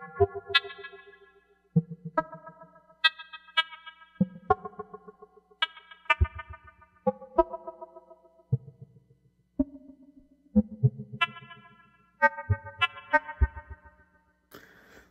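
Modular synthesizer producing irregular aleatoric rhythms, with white noise driving an envelope follower to trigger pulses: a sequence of sharp, plucked-like pitched hits at uneven intervals, each decaying quickly, loud and close with no talking.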